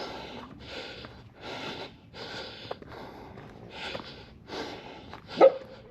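Large dogs in a village in Namibia pant and snort in rhythmic bursts close by, with a short sharp sound near the end.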